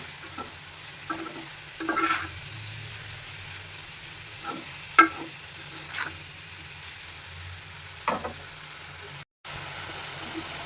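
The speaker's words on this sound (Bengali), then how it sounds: "লবণ দিয়ে আমি এখানে ভালোভাবে নড়াচড়া করে দিচ্ছি" Bitter gourd being stirred with salt in a frying pan, a soft continuous sizzle broken by a few scattered scrapes and taps of the spoon, close but quiet, cut by a brief dropout near the end.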